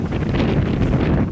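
Strong wind buffets the microphone on a dock at Skagway, Alaska, a loud continuous low roar and rumble with no talking.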